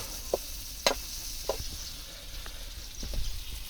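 Fish frying in oil in a pan, a steady sizzle with a few sharp spatters and utensil clicks, close and fairly faint, no voices.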